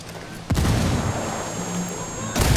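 In a video game, a frag grenade bursts in a loud explosive boom, then a rumbling tail, and a second blast comes near the end.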